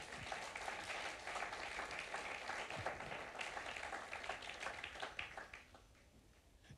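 A church congregation applauds and acclaims the Lord, a dense wash of clapping mixed with crowd voices that holds steady and then thins toward the end, heard from a distance.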